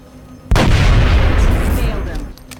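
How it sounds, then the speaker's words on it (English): Gunfire from the turn-based strategy game XCOM: Art of War: a single heavy boom-like shot bursts in after a short quiet lead-in and rings out in a long, loud decaying tail. "And I'm going to go ahead and take the shots."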